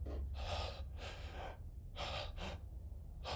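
A voice imitates agonal breathing, producing four harsh, loud gasping inhalations in an irregular rhythm, each a breathy rasp separated by short pauses.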